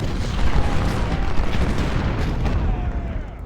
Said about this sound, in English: Turn those guns in that direction. Now, let's get them shooting.